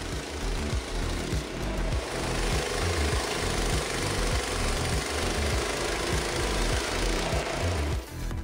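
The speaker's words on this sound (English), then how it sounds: "The OS23 saw from Frontier Sawmills is such a powerful machine." Frontier OS23 gas-powered portable sawmill cutting a log, its engine droning loud and close with a rapid chattering pulse from the blade biting wood, steady throughout with no talk.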